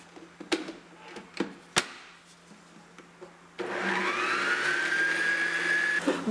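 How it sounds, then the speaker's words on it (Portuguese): Electric stand mixer whipping egg whites to stiff peaks, first a few knocks and clatters, then a steady loud whirring drone with a rising whine that runs to the end. "eu vou começar batendo as minhas claras até elas ficarem bem firmes"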